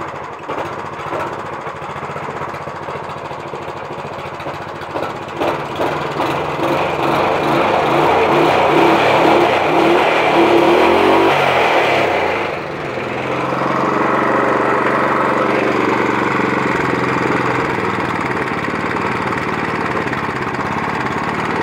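A small engine on a cold start chugs unevenly, then catches and runs loud and steady up close, its pitch dipping briefly before settling into a constant drone.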